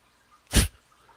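One short, sharp sneeze bursts out suddenly from near silence, close and brief, with no other sound around it.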